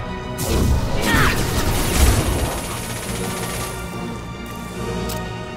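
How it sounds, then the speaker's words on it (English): Explosion in the video game Mass Effect 2, a loud crashing blast with rumbling debris and a sustained roar that slowly fades, heard alone without talk. "Impending explosion."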